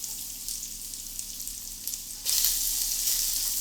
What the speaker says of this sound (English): And fry them on both sides.